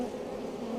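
Honey bees swarm and buzz at a hive entrance, a dense, steady drone close by with no talking.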